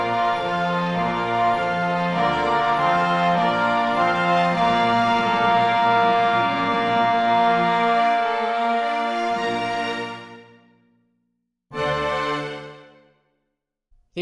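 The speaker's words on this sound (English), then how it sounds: "put all the orchestral forces together, and it sounds like this" A full symphony orchestra plays a Romantic-style passage together in rich, loud sustained harmony, then cuts off, followed by one short final chord that stops abruptly.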